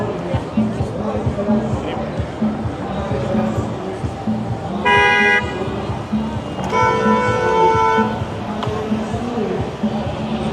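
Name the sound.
car horns honking in busy downtown traffic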